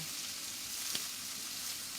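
Crab from a home pond fries in hot oil in a pan as it is stirred, giving a dense, steady sizzle with one brief scrape near the middle, close and even, with no voices.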